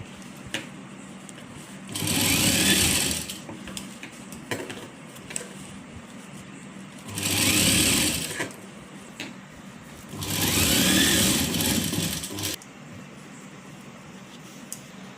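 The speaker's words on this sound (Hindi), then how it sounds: "अब जो हमने मंगजी अटैच की थी इस बाजू के, इस पे हम कवर सिलाई लगाएंगे" An electric sewing machine runs cover stitching along the newly attached sleeve of a child's kurti, in three separate bursts of steady whirring with quiet gaps between them, and no talking.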